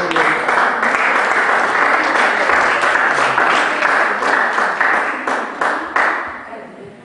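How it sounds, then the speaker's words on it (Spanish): Sustained applause from a church congregation fills the room, loud and continuous for several seconds with individual claps standing out, then tapering toward the end. "Dale fuertes palmas al Señor."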